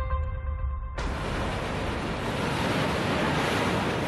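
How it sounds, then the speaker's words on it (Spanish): Strong waves crash on the north coast of Tenerife at Garachico, a loud, broad, continuous roar of surf that bursts in abruptly after a brief quieter moment with a faint tone. "Fuerte oleaje en el norte de Tenerife."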